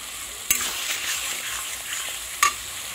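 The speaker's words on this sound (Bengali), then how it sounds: "সব গুঁড়ো মশলা দিয়ে এটাকে আবার কিছুক্ষণ কষিয়ে নিতে হবে, যতক্ষণ না তেল ছেড়ে না দিচ্ছে মশলা থেকে।" Ground spices and oil sizzle steadily in a pan for a Bengali rui fish curry, with two sharp scrapes of the stirring spoon against the pan.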